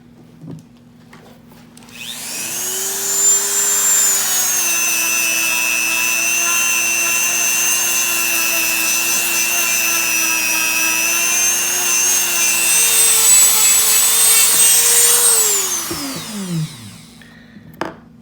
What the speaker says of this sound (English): I'm just going to use the Dremel tool again. This little fleshing ball works great.